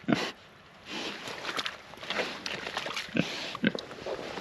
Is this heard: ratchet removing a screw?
no